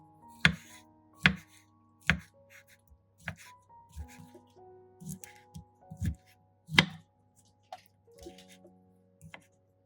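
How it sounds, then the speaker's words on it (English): A knife chops rotten tomatoes into small pieces on a board, landing in separate sharp strokes at irregular intervals over a faint background hum. "Then cut the tomatoes into small pieces."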